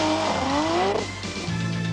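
A rally car on a stage of the 1988 Volkswagen Algoa Rally roars past loud and close, its engine pitch sweeping down as the tires hiss and scrabble on the surface.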